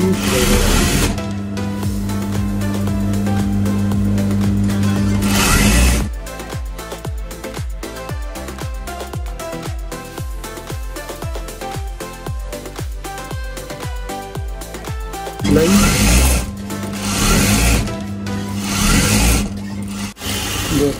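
Sewing machine double-stitching the sleeves of a front-open abaya, its rapid mechanical stitching running in steady bursts, loud and close, with brief pauses between runs.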